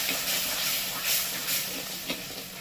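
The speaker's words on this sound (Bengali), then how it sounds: "এবার একটু নেড়ে চেড়ে নেব।" Steady hissing sizzle of a spiced potato and pointed gourd curry with nut paste, sugar and garam masala being stirred in a hot pan, with a few soft scraping knocks over a continuous close hiss.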